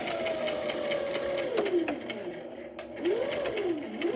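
A sewing machine whirs steadily and close while stitching scrunchie fabric, with small shifts in speed as it back-stitches, under a quiet spoken voice.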